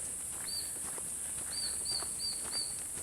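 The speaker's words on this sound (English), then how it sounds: "Wonder what kind of bird that is." A bird gives short, high chirping calls in a forest park on a summer hike, about five thin notes, heard at moderate distance over a faint steady hiss.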